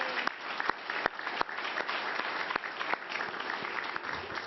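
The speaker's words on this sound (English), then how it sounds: "Let's give her a round of applause." An audience applauds the mayor at a Hochul announcement event, a dense, fairly close burst of clapping with sharp individual claps standing out, sustained for several seconds.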